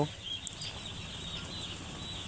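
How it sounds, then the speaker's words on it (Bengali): Broiler chicks fill a brooding house with continuous high-pitched peeping from many birds at once. A dense chorus holds steady throughout. "আজকে আমি মুরগির বাচ্চা উঠাইছি বারোশো ব্রয়লার বাচ্চা আপনারা দেখতে পাচ্ছেন"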